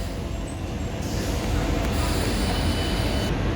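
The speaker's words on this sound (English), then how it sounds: "It's going to be 4015 and 4038 with Metro service to South Shield via Newcastle" Tyne and Wear Metro train at Cullercoats station, units 4015 and 4038 on a service to South Shields via Newcastle: a steady, close, loud rumble of wheels and motors with a faint high whine throughout.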